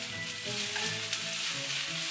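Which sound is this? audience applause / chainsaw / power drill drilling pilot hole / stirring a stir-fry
stirring a stir-fry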